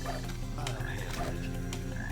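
Frogs croak in the video game Sonic Heroes, dense and continuous, with rapid overlapping calls over a steady background and no talking.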